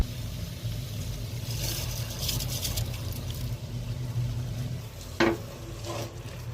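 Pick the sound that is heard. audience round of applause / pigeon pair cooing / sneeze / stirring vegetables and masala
stirring vegetables and masala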